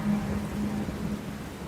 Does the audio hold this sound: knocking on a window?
no